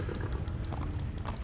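Hooves of a horse galloping in the medieval video game Kingdom Come: Deliverance, a quick, steady clip-clop over a low rumble, close and continuous.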